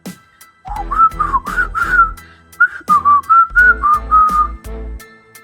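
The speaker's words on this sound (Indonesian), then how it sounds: "Dibentak demikian rupa, si pemuda bukannya hentikan siulan, malah semakin memperkencangnya" A young man whistles loudly and shrilly in short rising and falling notes, a quick run of chirpy phrases, a brief pause, then another string, close and clear against silence.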